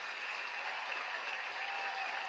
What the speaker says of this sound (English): Listen to that crowd. They're so excited.